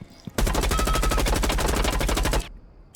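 Sustained automatic rifle fire in Rainbow Six Siege, a rapid unbroken burst of loud shots lasting about two seconds, close and alone, ending abruptly into quiet.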